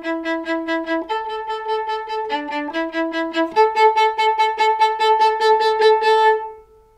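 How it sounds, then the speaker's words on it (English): A solo viola plays an accompaniment figure, repeated bowed notes in a pulsing rhythm that climb through a few pitch changes. It is clear and close, then fades out at the end. "So a viola part will often sound like this."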